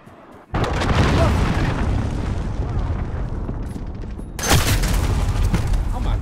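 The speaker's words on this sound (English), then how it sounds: "Enemy cruise missile incoming" A cruise missile strike in Call of Duty Modern Warfare online multiplayer lands as loud, sustained booming explosions, with a second heavy blast surging in partway through the rumbling barrage.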